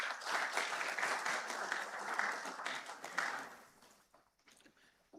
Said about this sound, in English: Please, let's receive him with a round of applause.